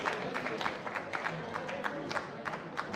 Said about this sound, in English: Round of applause, please, as you come to launch the book.